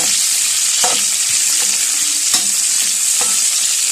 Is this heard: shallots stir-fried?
yes